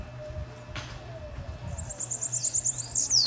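A small sibite songbird sings a rapid series of high, repeated chirps that build into a quick trill, over a low steady hum.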